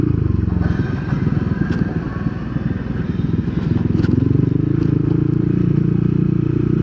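Yamaha Nmax 155 scooter with an open muffler, revving hard and steadily close by, a loud rough rattling drone that swells toward the end, with no talk.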